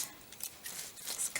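Scissors cutting paper for a vintage tag, a few quick faint snips and crisp rustles close by, with no voice.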